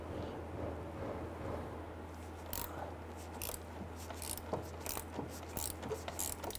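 A 13mm wrench loosens a nut on the speed sensor of a 1994-2004 Ford Mustang 3.8L V6, giving a series of quiet ratcheting clicks and metallic ticks over a low steady hum, close by, with no talking.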